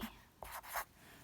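Close pen or marker strokes as a math equation for a line is written by hand, with a few brief scratchy rubs in quick succession and no talk.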